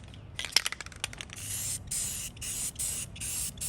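Aerosol spray paint hissing from a nearly empty can onto a rusty, textured Atlas industrial tool cart, starting with a few short clicks and bursts, then several steady hissing sprays with brief pauses between them, close and fairly quiet.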